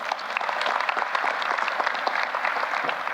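A university investiture audience applauds former cabinet members and staff with sustained, even clapping from a large crowd, dense and fairly close, holding at a steady level from start to finish.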